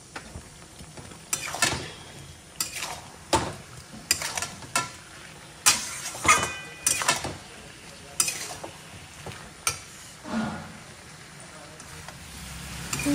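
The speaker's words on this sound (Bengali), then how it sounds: "এবার চিংড়ি মাছগুলো দিয়ে কষাবো" Prawns and boiled potato sautéing in hot oil in a pan, with a steady low sizzle broken by repeated scraping stirs and spoon knocks against the pan, close and moderately loud.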